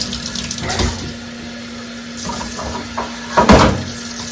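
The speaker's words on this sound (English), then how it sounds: "I'm going to pour that water off." Boiling water is poured off boiled neck bones from a pot into a sink in short bursts and splashes, with a low steady hum in the background and a clunk near the end.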